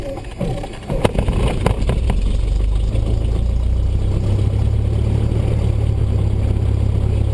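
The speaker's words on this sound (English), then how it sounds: "now that I got the engine running" A Cessna 172's piston engine cranks with a few sharp bursts, then catches and settles into a steady, loud idle rumble.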